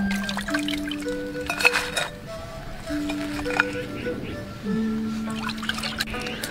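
Lobster being washed clean in a kitchen sink: running water and splashing, trickles and drips under a steady background tone, close and moderately loud, with no clear talking.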